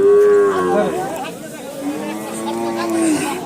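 Cattle moo loudly and repeatedly nearby at a cattle market, long drawn-out lowing calls overlapping, with a crowd murmuring in the background.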